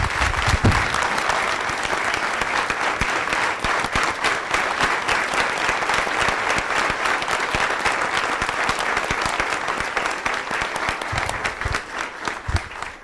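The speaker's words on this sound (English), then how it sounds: "we should give these men and women a great big round of applause for a great case" Sustained, loud clapping from the audience at a city council and authority meeting honoring police for a solved case, a continuous crowd applause lasting over ten seconds before tapering off, with no voices on top.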